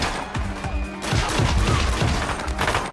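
Gunfire in a film scene, loud rapid volleys of shots crashing in bursts with booming low rumble, dense and continuous over the whole stretch.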